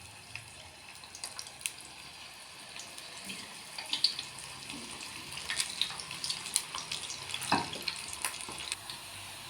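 Cauliflower gobi pieces frying in hot oil give a faint, steady hiss with scattered soft crackles and pops, quiet and close, with no talking.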